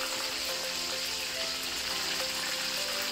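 Sea bream fries in a pan with a steady, bright sizzle and crackle that holds evenly from start to finish, close and moderately loud with no voices over it.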